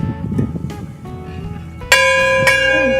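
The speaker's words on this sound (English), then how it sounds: "Ring the bell." An old bell at a customs house in a ghost town in Molson, Washington, pulled hard by hand. Scuffling and handling noises come first, then one loud, bright clang that rings on and is struck again as it swings.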